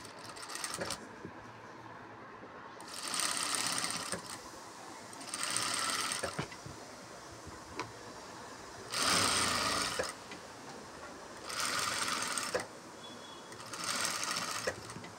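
A sewing machine stitches fabric for a potli box in several separate whirring bursts of rapid needle chatter, each a second or so long, close up with quiet handling noise between runs.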